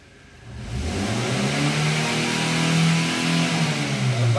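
A car engine revs up as the throttle opens, a close, steady rising whine and drone that climbs in pitch and holds high, wavering slightly, with no talking.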